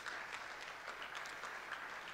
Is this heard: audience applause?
yes